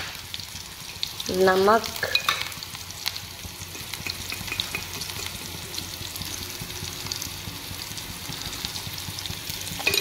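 Food fries in hot oil in a pan in a home kitchen, a steady sizzle that carries on throughout, with a brief voice near the start.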